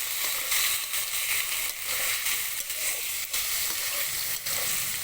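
Long-cut carrots hit hot oil in a frying pan for chicken fried rice and hiss in a loud, steady sizzle close to the pan. The sizzle runs on without a break.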